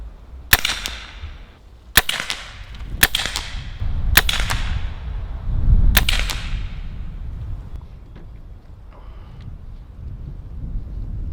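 A Pinty P-Force Tactical PCP air rifle firing five sharp cracking shots at uneven intervals over about six seconds, each with a short ringing tail, set against outdoor wind noise and a few faint clicks afterward.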